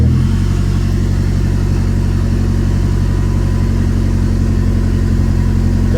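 A turbocharged Dodge Daytona engine runs steadily and loudly up close while gears are shifted, a constant low mechanical drone with no clear revving peaks and no voices.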